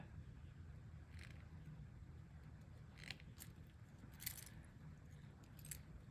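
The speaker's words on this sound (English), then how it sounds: "I'm going to have to cut the chain off." Small sharp metallic snips and clicks from tools cutting a necklace chain near jump rings, a few scattered close bursts over a quiet background.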